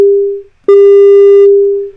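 Pure Data sine wave tones sound as two pulses, a short one and then a longer sustained one, each a clean steady pitch that fades out smoothly, loud and isolated.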